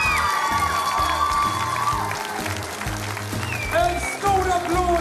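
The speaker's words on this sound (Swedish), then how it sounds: "En stor applåd för vinnaren av Talangjakten 2012, Sofia Lindberg!" An audience at a talent contest applauds the winner with steady, moderately loud clapping and some cheering, while a voice speaks over the crowd and brief musical tones sound in the background.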